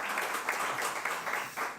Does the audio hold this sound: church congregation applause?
yes